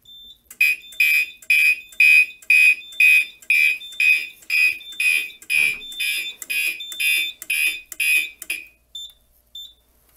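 A Simplex 4010 fire alarm set off by a sprayed Gentex smoke detector sounds a loud, regular series of piercing electronic horn pulses, about a dozen evenly spaced blasts that then stop, with no talk over them.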